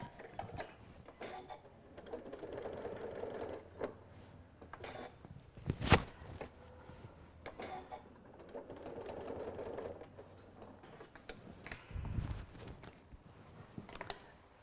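Sewing machine stitching a quarter-inch fabric seam in two steady runs of rapid whirring, separated by a pause with a sharp click, close and fairly quiet.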